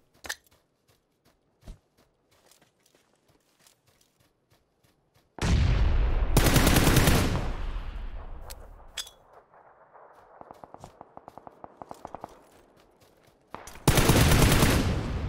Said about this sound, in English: my VSS shooting was trash on that guy there